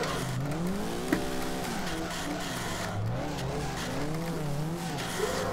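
Nissan Silvia PS13 drifting in Assetto Corsa, engine droning steadily with revs rising and falling while tires squeal continuously through slides, loud and close with no talking.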